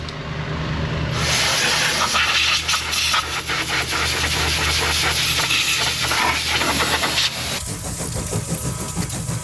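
Compressed air from a blow gun blasts dust and dirt out of the fuel pump chamber under a Toyota T350's rear seat, a loud sustained hiss lasting several seconds before cutting off, with a hum running underneath.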